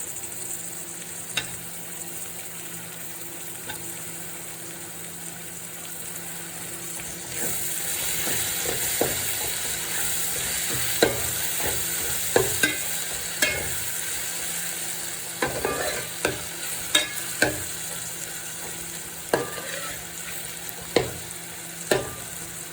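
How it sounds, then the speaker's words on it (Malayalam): Onion and tomato sautéing in a pan, a continuous close sizzle that swells partway through, punctuated by a long series of sharp spatula scrapes and clicks against the pan, with no talking. "സവാള ഏകദേശം വഴണ്ട് വന്നിട്ടുണ്ട്. നമുക്ക് തക്കാളി ഇട്ട് കൊടുക്കാം."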